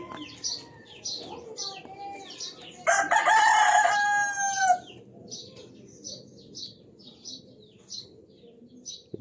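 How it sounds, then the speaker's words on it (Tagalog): A rooster crows once loudly and up close among a flock of chickens, with steady chirps and soft clucks around it before and after the crow, and no talking. "Medyo maramdami lang ang manok na ganito eh."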